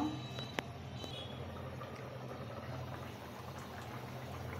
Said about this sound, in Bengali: ঝোলের পানিটা ফুটে গেছে।